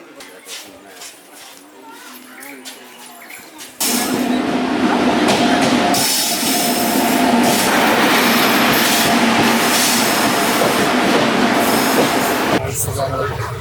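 Quiet voices at first, then a loud, close train roars along the rails with a steady rumbling clatter that continues to the end.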